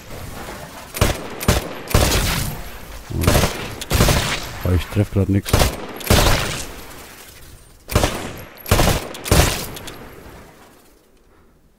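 Sharp bursts of Titanfall gunfire at a training shooting range, several shots in quick succession with gaps between, while someone talks over them.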